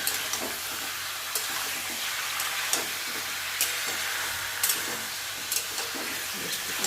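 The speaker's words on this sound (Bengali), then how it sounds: "তো পেঁয়াজের সঙ্গে মাংসটা একটু ভেজে নেব।" Meat frying with onions in a pan, giving a continuous close sizzle and hiss with occasional light scraping and stirring clatter, steady in level and with no voices.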